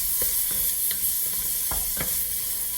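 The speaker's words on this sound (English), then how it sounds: "And just stir it up." Minced garlic being stirred into a roux in a pan, a continuous hissing sizzle broken by regular scraping strokes of a spoon, close and fairly loud with no talking.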